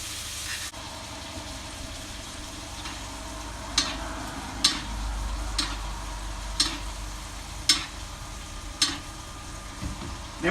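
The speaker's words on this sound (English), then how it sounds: "I'm going to get a nice big knob of butter. Don't be shy. Get that in. Give it a good basting." Steak sizzles in a pan with a big knob of melted butter being spooned over it, a steady frying hiss broken by sharp, regular spoon clinks against the pan roughly once a second.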